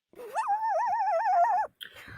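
A cold, shivering dog whimpers in one long, wavering, high-pitched whine lasting over a second, followed by a short second yelp, close and clear with no talking.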